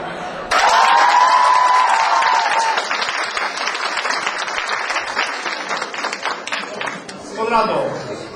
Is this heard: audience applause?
yes